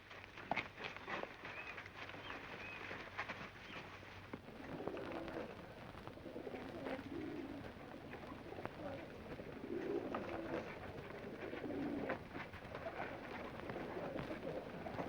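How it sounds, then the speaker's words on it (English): Pigeons coo softly and repeatedly in a low, rolling murmur against steady hissing background noise in a 1938 film scene, faint and a little distant, with no speech over it. "Yes, there are pigeons here."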